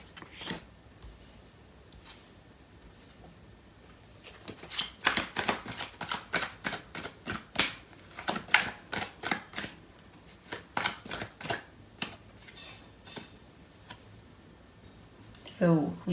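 Tarot cards being shuffled by hand, a run of crisp, rapid riffling bursts in quick succession, close and fairly loud, with quieter handling before and after.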